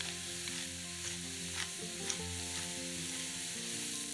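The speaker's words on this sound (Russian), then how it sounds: "Все перемешиваем." Mushroom filling frying in a pan while being stirred, a close, continuous sizzle with soft scraping strokes of a spoon, no voices.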